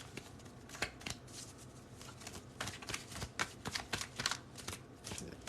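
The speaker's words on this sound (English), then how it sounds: "Let's get a little bit more of a shuffle in there." Tarot cards being shuffled by hand make a dense run of soft papery flicks and riffles, close and quiet, with bursts of rapid snapping slides repeating through the stretch and no talking.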